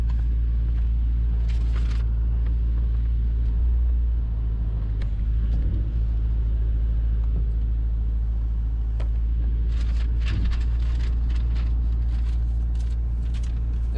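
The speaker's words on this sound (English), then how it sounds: "550 horsepower bi-turbo Ferrari built engine. Okay, let me put my seatbelt on here and we'll take this for a spin." A car powered by a 550 hp bi-turbo Ferrari-built engine drives along with a loud, steady low rumble from inside the cabin, holding a constant drone with slight swells throughout.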